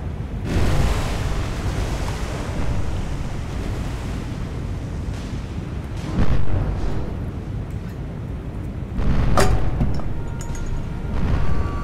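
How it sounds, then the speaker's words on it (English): Naval gunfire in a World War II sea battle game off Guadalcanal, with rounds booming in over a constant roar of wind and surf, and a few heavy, rumbling blasts rising out of the background every few seconds. "Some additional rounds coming in from our other ships"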